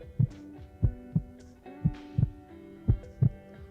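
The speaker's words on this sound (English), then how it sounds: "No, that's not your heartbeat. I played it." Recorded heartbeat played back, a steady series of soft, low double thumps with a faint hum between beats, alone with no talk.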